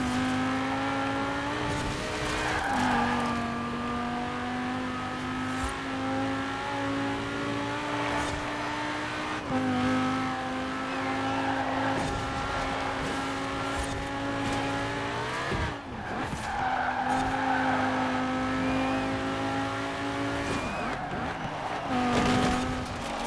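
A Lamborghini Huracan LP610-4 races in a video game, its engine droning loud and steady with repeated gear shifts and revs rising and falling, plus brief tire squeals, running continuously with no talk over it.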